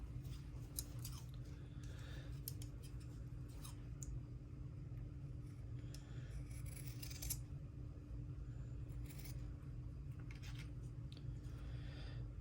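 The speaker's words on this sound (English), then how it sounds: "let's clean up the rough edge on this a little bit with the fabric scissors." Sharp fabric scissors trim a rough edge on a handmade journal piece, a series of faint, close snips and crisp cuts in short irregular bursts over a steady low hum.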